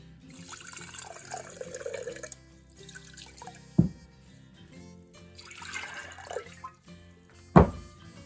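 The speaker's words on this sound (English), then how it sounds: "just rinse these in some fresh, clean spring water or good filtered water" Soaked microgreen seeds are rinsed in fresh spring or filtered water, with soft trickling and sloshing, bursts of running water and two sharp splashes or knocks.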